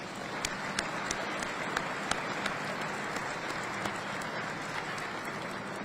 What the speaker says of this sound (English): Please join us in a round of applause for all the distinguished guests